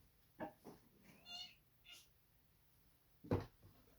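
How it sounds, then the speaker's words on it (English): A house cat meows several times, short and fairly quiet, close by in a calm indoor room, with a slightly louder final meow near the end and no talking. "There's a cat."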